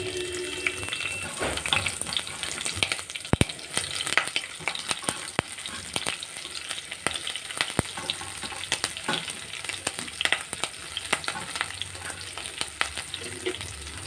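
Green chilies fry in hot oil in a pan with a steady bright sizzle, broken by occasional clinks and scrapes of stirring, close and continuous.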